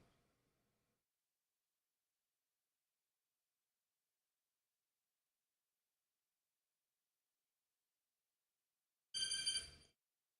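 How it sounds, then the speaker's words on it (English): A telephone rings once in a short loud burst near the end, after a long stretch of near silence. "How dare you call my phone at this hour?"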